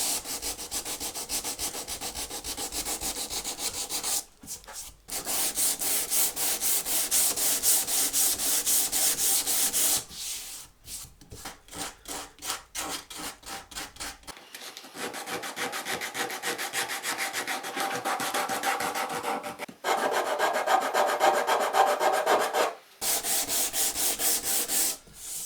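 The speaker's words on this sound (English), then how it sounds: "I've just got a 120 pad on a block, and I'll just work my way around and get any little oddities out of there." Guitar frets on a Stratocaster build are hand-sanded with a 120-grit pad on a block, making rapid back-and-forth scratchy strokes that continue close and steady for about twenty-five seconds, with a few short pauses between passes.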